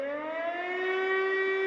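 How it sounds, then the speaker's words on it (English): A civil defense emergency alert siren holds a steady, loud, rising wail with strong harmonic overtones, sounding alone without any talk. "I mean, it's a basic siren"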